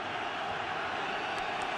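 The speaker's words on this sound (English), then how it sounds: "3rd and 10, this crowd getting loud" A big NFL stadium crowd at the Giants' home game against the Falcons roars as a steady, loud wash of noise, building on a third-and-ten play with no break across the short stretch.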